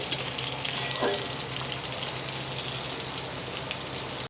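Steady, dense sizzling of fish frying in hot oil in a pan over low heat, continuous and close throughout, with a brief stir or clink partway.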